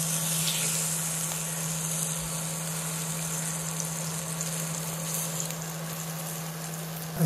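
Hot oil sizzles and crackles continuously as chicken pieces fry for Kerala-style pollichathu, a close, steady hiss with a low hum underneath and no voices.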